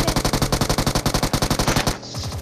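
Rapid automatic gunfire in the mobile battle-royale game PUBG Mobile: a loud, steady stream of about twenty evenly spaced shots that cuts off abruptly, leaving a low game rumble.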